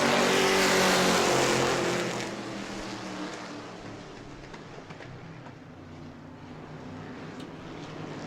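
Race cars launching off the line at the start of a heat race at New Smyrna Speedway, a loud close engine roar in the first two seconds that drops back to a steadier, more distant drone as the field pulls away.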